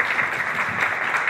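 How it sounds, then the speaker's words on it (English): An audience applauds the Roosevelt Institute and AFL-CIO staff at an industrial policy event, with even, sustained clapping heard at a moderate distance. "Let's also give another round of applause to the Roosevelt Institute and AFL-CIO staff that helped us out here today."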